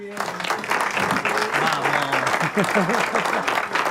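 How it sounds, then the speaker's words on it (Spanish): Studio audience applause greeting a guest on a live streaming show, dense clapping heard under overlapping voices and music-like tones throughout. "Los aplausos."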